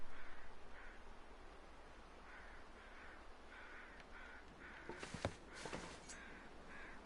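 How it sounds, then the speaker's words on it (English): Crows caw repeatedly in the video game The Long Dark, several harsh calls spaced through the clip over a steady wind-like hiss, with a louder cluster of caws near the middle and no talking. "Alright, there's more birds."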